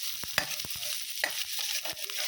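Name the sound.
onions sautéing in a pan until golden brown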